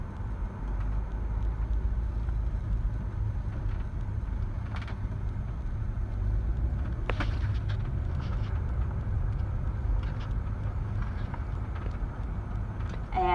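A BraunAbility MXV Ford Explorer adapted for a quadriplegic driver rolls along with a steady, fairly quiet cabin hum of engine and road noise, broken by occasional light clicks and knocks.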